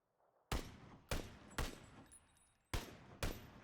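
Five separate rifle shots in PUBG with a muzzle brake fitted, loud sharp cracks, each with a decaying tail, in an uneven rhythm with a longer gap before the last two, no talk.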